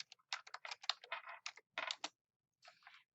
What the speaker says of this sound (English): so I'm just going to type it